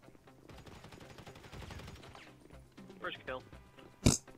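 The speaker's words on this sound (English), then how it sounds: "I'm shooting at nothing over here" Scattered gunfire in GTA plays under a busy game mix with speech, building to a sharp, loud shot near the end.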